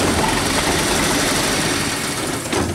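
Isuzu 105 diesel engine on a tracked tiller idling close by, a loud, steady low rumble with constant vibration and a slight knocking texture throughout, no talking.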